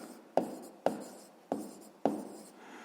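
Handwritten strokes of a pen on paper during a sixth-grade math exercise, four distinct scratchy strokes at regular intervals, close and alone.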